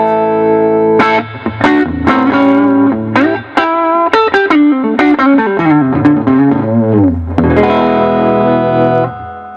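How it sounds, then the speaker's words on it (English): An electric guitar rings through a Magnatone amplifier with its vibrato effect on, playing loud chords and single notes whose pitch wobbles steadily, sustained and rich, with no talk over it. "That right now we're listening to vibrato. You hear the wiggle of pitch is actually being shifted."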